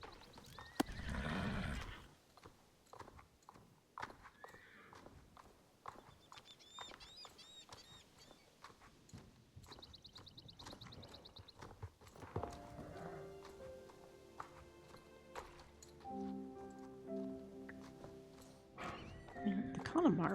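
Mustang horse in the Star Stable Online video game, with a whinny near the start and scattered soft hoof clip-clops and game effects, heard faintly under talking.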